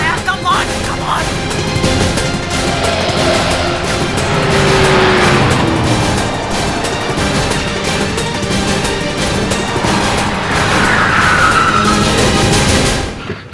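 Car driven fast through city traffic, a loud, continuous engine roar with passing-vehicle swells and brief tire squeal, while voices shout urgently over it.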